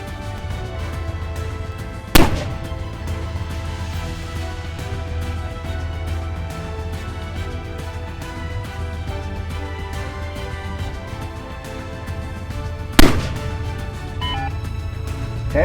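Tank guns fire in a mock tank battle at a tank museum weekend: two loud, isolated booms about eleven seconds apart, each sharp and fairly close, over steady engine rumble.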